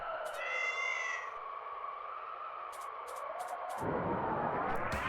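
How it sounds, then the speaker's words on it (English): A cat meows once, a short rising-falling call, up close over a steady background hum, followed by a few faint clicks and a louder rumble. "Cat."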